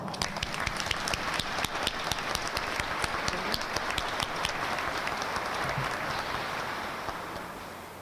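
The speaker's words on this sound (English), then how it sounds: "Give yourselves a round of applause." Audience at an Arkansas Century Farm induction ceremony applauds, dense sustained clapping from a large crowd in a hall, steady then gradually fading toward the end.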